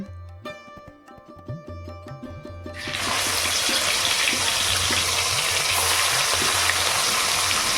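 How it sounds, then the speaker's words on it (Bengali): Rohu fish pieces are dropped into hot oil and fry with a loud, steady sizzle that bursts in after a few soft clinks and kitchen knocks, continuing close and unbroken. "একইভাবে বাকি মাছের পিসগুলো ভেজে নিলাম"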